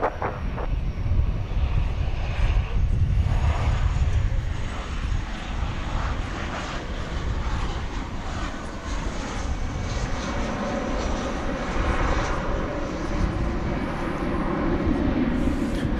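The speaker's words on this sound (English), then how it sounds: "American Flight 1772 is coming in now from Santa Barbara, 737-800." American Airlines Boeing 737-800 arriving from Santa Barbara on approach to land at Dallas/Fort Worth Airport at night, a steady loud engine roar with heavy low rumble sustained throughout, swelling slightly toward the end.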